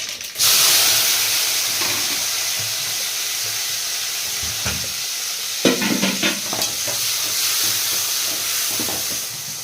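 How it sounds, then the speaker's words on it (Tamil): Mustard seeds sizzle loudly and steadily in hot oil in a pan, a constant frying hiss with crackling pops and a stir partway through. "எண்ணெய் ஊற்றி கடுகு போட்டுக்கிற"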